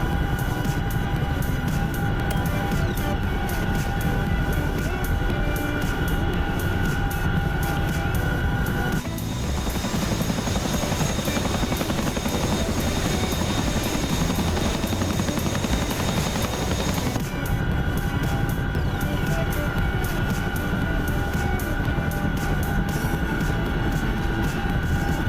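Loud, continuous rotor and turbine drone of a Chinook helicopter in flight in the DCS combat flight simulator game, steady throughout with a tonal whine that shifts briefly in the middle, no speech.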